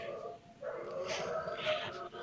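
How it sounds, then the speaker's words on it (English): Dogs in the background of a tabletop role-playing session, giving muffled whimpering yips and short barks, fairly faint and mixed with a low room murmur. "Excuse me, sorry about the dogs."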